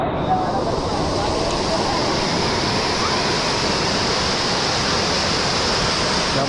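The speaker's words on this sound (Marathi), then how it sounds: "त्या बाजूने असं पाणी पडतंय, भयानक पाऊस आहे" Water pours down at Bhushi Dam during heavy rain, a loud, unbroken roaring rush close by that holds steady throughout.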